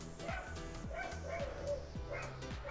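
Several dogs bark and yip outdoors, repeated sharp barks in an uneven rhythm, muffled and distant-sounding beneath steady background noise, with a voice faintly present.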